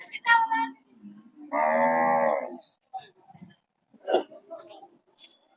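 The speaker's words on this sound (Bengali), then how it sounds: "রাস্তার এই পাশে কিন্তু বেশ গরু আছে" Cattle at a village cattle market held at a college ground in Tongibari, Munshiganj, giving one clear close moo between short bursts of nearby talk and quieter background movement.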